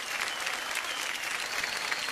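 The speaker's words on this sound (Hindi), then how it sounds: "जोरदार तालियां बज जाएं ऋचा अनिरुद्ध जी के लिए" A studio audience on a game show set breaks into loud, continuous applause, a dense even roar of many hands clapping for the whole stretch.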